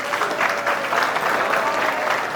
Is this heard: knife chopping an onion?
no